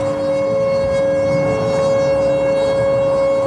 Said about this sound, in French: quand on passe dans une ville avec les sirènes émises pour alerter la population